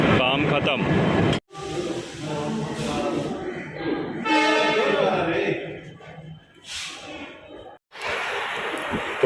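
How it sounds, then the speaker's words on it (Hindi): Purna Express train pulling out of Madgaon Junction on the Konkan Railway, a steady rumble and rattle with voices speaking nearby, briefly dropping out twice. "तो हमारी पूर्णा एक्सप्रेस अपने तय समय 1:20 पर मडगांव जंक्शन से रवाना हो गई।"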